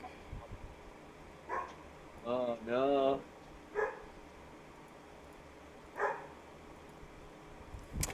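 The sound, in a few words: dog barking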